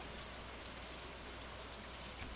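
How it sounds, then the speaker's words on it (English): Steady, even rain hiss from the video game Stardew Valley with no breaks, a constant wash of falling drops heard fairly faintly throughout. "the rain sound effect is still going"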